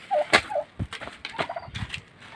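Farmyard chickens cluck in short bursts, with several sharp, rising calls and a few lower clucks spread across a couple of seconds, moderately close and without talk.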